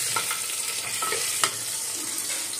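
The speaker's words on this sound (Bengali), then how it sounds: "প্রথমে আলু দুটোকে ভেজে নিচ্ছি।" Large potatoes frying in oil at the start of a village-style mutton curry, a close steady sizzle with occasional scraping and stirring taps, no voices.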